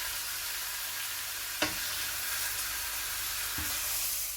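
Pork chops seared in a pan for Portuguese pork chops, a steady broadband sizzle and hiss throughout, with a couple of brief clinks of utensils against the pan.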